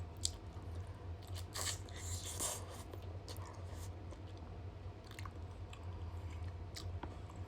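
Someone eats chicken adobo by hand, producing close, wet chewing with irregular crunchy bites and smacks over a low steady hum, all at fairly low volume.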